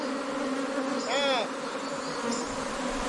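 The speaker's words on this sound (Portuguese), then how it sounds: "Olha, as abelhas já quase entrou tudo, ó, elas entrando" Apis honey bees buzzing steadily as they crowd back into a hive in a hollow tree, with a louder wavering buzz from one bee passing close midway.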